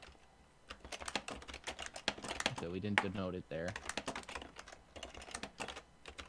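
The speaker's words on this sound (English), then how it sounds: "Just typing out who it's going to be." Rapid clicking of a computer keyboard runs throughout, keys tapped in quick uneven bursts close to the microphone while a person talks over the typing.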